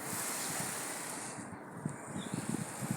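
Wind gusts outdoors pushing against a front door, a steady broad rushing roar with low buffeting thumps growing stronger toward the end.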